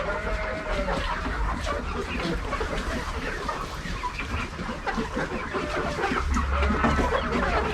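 Chickens cluck continuously in a busy tent coop of about 300 birds, many at once, steady and fairly loud with a low background hum.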